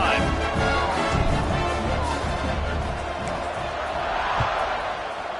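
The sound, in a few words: stadium crowd cheering in a college football video game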